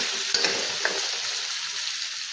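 Pointed gourd and potato pieces frying in a pan, a steady close hiss of oil with a few brief stirring clinks near the start.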